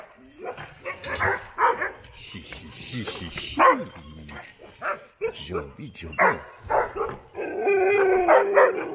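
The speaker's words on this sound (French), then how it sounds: "Le gros chien loup." A large wolfdog barks and yips in short bursts close by, mixed with a person talking to it, with a drawn-out whining howl near the end.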